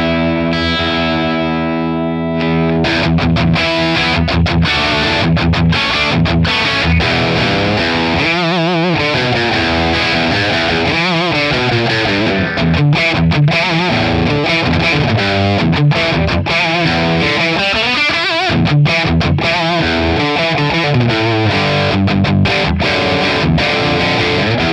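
A Les Paul electric guitar played through a Friedman Plex DI tone model, heavily distorted, chugs and rings with sustained chords and fast riffs, loud and continuous with brief pauses.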